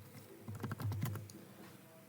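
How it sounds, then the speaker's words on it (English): Soft, quick keyboard clicks tap out a short run of keystrokes in a quiet room, faint and close, clustered in an uneven burst while entering a birthday when creating a Valorant account. "just type in your birthday"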